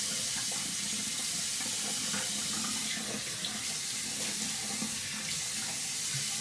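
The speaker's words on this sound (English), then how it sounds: "Do a little quick rinse on my face." Water runs steadily from a tap into a sink during a quick face rinse, a continuous close hiss and splash with no talking.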